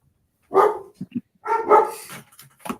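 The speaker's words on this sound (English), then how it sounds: "now your dog's barking" A dog barks indoors: two loud, close barks about a second apart, separated by a couple of short softer yips, with a faint trailing bark at the end.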